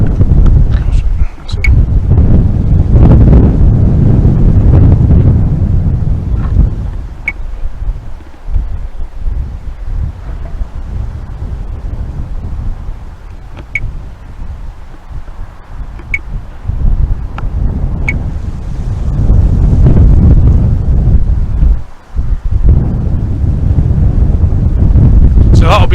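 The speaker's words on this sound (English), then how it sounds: "It's just a bit windy." Low, rumbling wind buffeting the microphone in gusts throughout, heavier at the start and end, with faint rustling underneath, outdoors at Stannergate in Dundee, Scotland.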